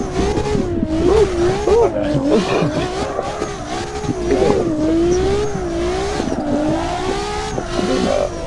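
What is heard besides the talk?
Nissan R35 car engine revving in racing video game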